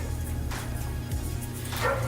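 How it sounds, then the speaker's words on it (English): A dog barks a few times at a distance, faint against steady background noise. "My dog is barking."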